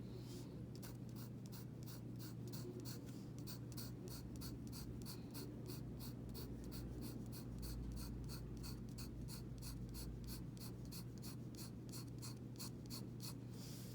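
Pencil cross hatching on paper, a steady run of quick, evenly spaced scratchy strokes, close and faint, continuing without pause and with no voices.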